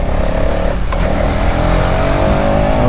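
A 2026 Hero Xtreme 250R motorcycle pulling hard in third gear to overtake a car, a loud continuous engine roar climbing steadily in pitch over heavy wind and road noise, with no talking.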